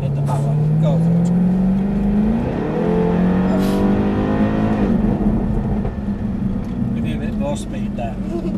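A Jaguar car accelerating hard and then braking, its loud, close engine note climbing in pitch before settling, with talk over it.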